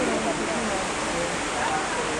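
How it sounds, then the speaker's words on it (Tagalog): Water from a man-made waterfall by a river rushes down over a bamboo raft area: a steady, loud broadband roar and splash, close by and continuous throughout. "So you can feel the water rushing down your feet. And that came from that man-made waterfall."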